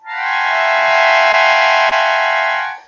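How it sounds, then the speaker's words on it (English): An accordion sounds a chromatic cluster: one loud, sustained, reedy chord of densely stacked tones held for about three seconds, broken only by two faint clicks. "So for example, the chromatic cluster sounds like this."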